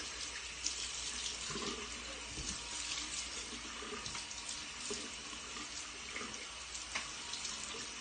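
A faucet runs into a sink while a face is rinsed clean of LimeLight by Alcone skin care product, a steady soft stream with faint splashes and no speech.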